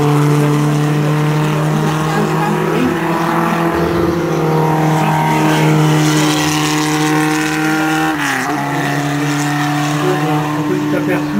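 Historic cars climb a hill road at the Cacharat historic hill climb, with a steady, loud engine drone holding and slightly shifting in pitch, accompanied by continuous background rumble.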